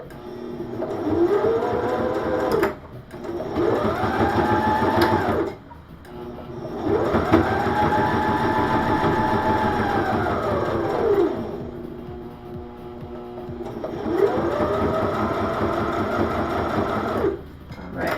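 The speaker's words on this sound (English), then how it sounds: "I have time to sew on my belt." A sewing machine stitching a passport case runs in three long loud bursts with short pauses between them, a fast rhythmic whir close by.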